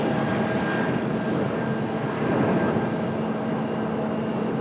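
A Delta Airbus A220 jet takes off at Raleigh-Durham, its engines a broad, steady roar from a moderate distance with no voices over it.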